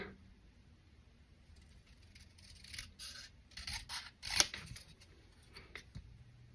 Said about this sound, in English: then we're just going to fussy cut this, and we are going to do it as straight as we can